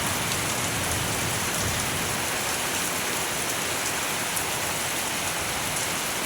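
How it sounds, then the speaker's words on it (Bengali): Heavy rain pours down in a dense, unbroken hiss, loud and constant throughout with no voices. "এত বৃষ্টি নামছে"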